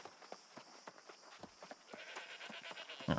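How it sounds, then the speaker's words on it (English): Sheep bleat in the video game New World, a series of short, quiet calls scattered across a few seconds, with a louder bleat at the very end over faint game ambience. "Murdering the sheep."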